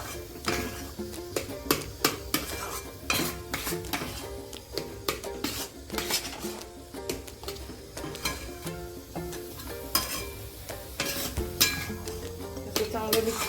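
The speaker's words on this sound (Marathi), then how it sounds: "आता हे छान मिक्स करत राहूया" A spoon scrapes and stirs a paneer modak mixture around a pan in a repeated, uneven rhythm of close metallic taps and scrapes, with a faint sizzle underneath.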